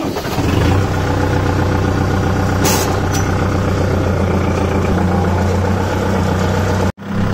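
A Kubota 4501 4x4 tractor engine runs at a loud, close, steady diesel idle with a rhythmic low throb, a brief higher clatter around the third second, and a sudden cut near the end.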